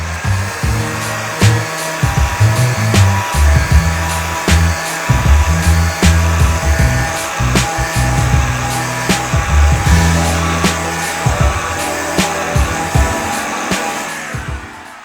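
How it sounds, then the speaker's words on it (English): A loud, continuous power-tool whine from a high-RPM flap wheel sanding disc grinding metal, with steady rough hiss and uneven surges as pressure changes. "Another option you have is a flap wheel. This is basically just like a really high RPM sanding disc."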